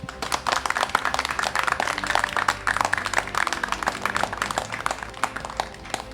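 Dense, sustained audience applause with many overlapping claps filling the whole stretch at a steady loud level, from a stage reality show episode.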